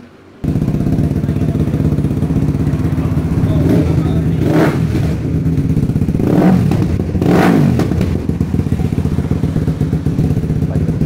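A modified Honda CBR150 motorcycle engine idles steadily, then revs up three times in sharp bursts before settling back, loud and close with no talking.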